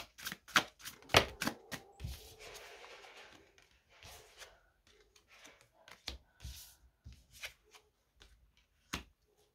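Tarot cards being shuffled and drawn for a reading: a run of quick papery riffles and snaps near the start, then scattered soft slides and sharp card flicks spaced across the rest, close and fairly quiet with no talk.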